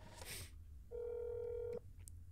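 One short steady telephone dial tone, clean and alone, sounding for under a second after a brief click of handling noise in a video game.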